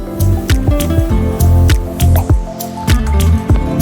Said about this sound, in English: Submerge the whole garment in water.